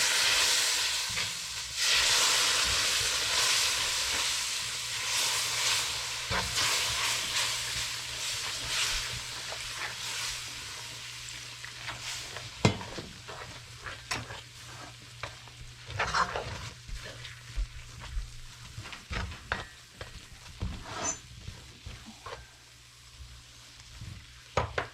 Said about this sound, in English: we're gonna add our evaporated milk into our Phag that we had with the cinnamon stick